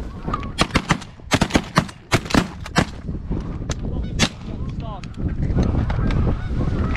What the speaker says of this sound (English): we had some geese that came in there